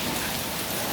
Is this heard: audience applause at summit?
no